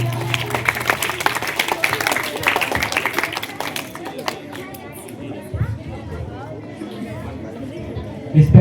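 An audience at a school block-level debate competition claps loudly for a student contestant. Bursts of clapping mix with crowd chatter, then die down into murmuring and a few scattered claps.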